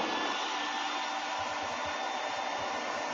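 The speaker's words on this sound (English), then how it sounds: "I am going to turn the vacuum on." A shop vacuum runs steadily in a woodturning workshop, giving a loud, continuous rushing whine that stays even throughout.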